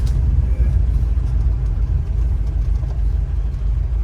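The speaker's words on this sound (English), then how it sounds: "that's that stainless steel exhaust he's got there too. That sounds nice." A 1970 VW Westfalia Bay Window camper van engine with a stainless steel exhaust runs at a steady, deep, rumbling idle, close and loud, with no talking.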